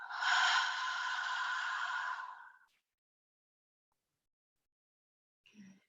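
A loud, long breath out during a yoga vinyasa session lasts about two seconds, breathy and close. Near the end comes a brief faint sniff.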